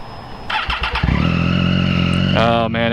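A Triumph Daytona 675R sport motorcycle cranks and fires up, its engine catching after a brief starter whir and settling into a steady idle with a sharp exhaust blip, close by, with a voice briefly heard over it.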